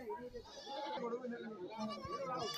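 A goat bleats with a wavering, drawn-out cry at a goat market, close by, as a person talks at the same time.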